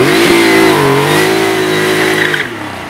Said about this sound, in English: First, a standing start on the road, wheel spinning away, and seeing if both wheels are spinning at the same rate.